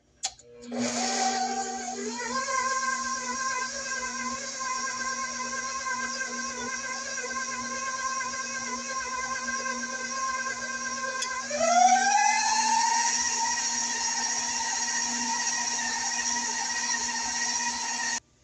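Electric stand mixer beating butter and sugar for a toasted coconut pound cake, a steady loud whir that starts at low speed, then ramps up to a higher pitch partway through and keeps running with no talking.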